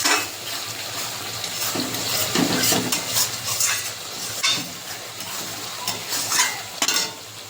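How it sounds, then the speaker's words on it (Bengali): Spice paste with Kashmiri chilli powder fries in a pan for a catla fish curry, a loud steady sizzle with repeated scraping stirs and occasional clinks of a utensil against the pan. "ভালো করে মশলাটা কষিয়ে নেব।"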